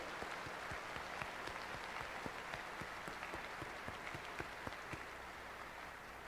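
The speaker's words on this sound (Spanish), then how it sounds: "Vamos a dar un buen aplauso a los que están por primera vez" Steady, fairly faint applause from a church congregation welcoming first-time visitors, with distinct individual claps over a continuous wash of clapping lasting about six seconds.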